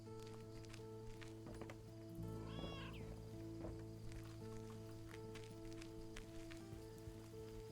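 A cat meows in the cosy video game Cosy Delivery, with a clear meow midway over steady game music and light footstep sounds.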